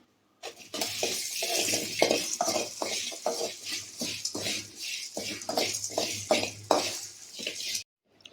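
Dry-roasting fenugreek, chana dal, cut coconut and three dried red chillies in a pan for a Tamil vatha kuzhambu, with steady scraping and stirring, a spoon clinking against the metal and a faint crackle throughout, close and without talk.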